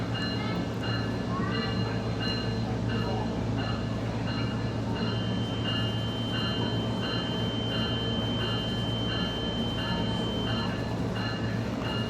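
SMART commuter train running from Larkspur to San Rafael, a steady loud interior rumble and rattle of rail travel with rhythmic wheel clicks and a faint high tonal whine, continuous throughout with no talk.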